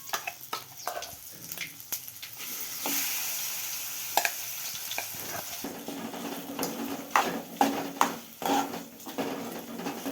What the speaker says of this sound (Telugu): ముందుగా మిక్సీ పట్టేసుకున్న బీరకాయ పచ్చడి కూడా ఇప్పుడు తాలింపులో వేసుకుంటున్నాం